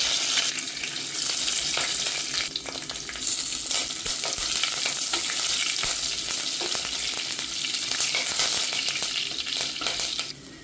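Green chilies and curry leaves fry in hot oil with mustard seeds for a crab curry, giving a loud, steady crackling sizzle with spitting pops. It is close by and continues for about ten seconds with no talk.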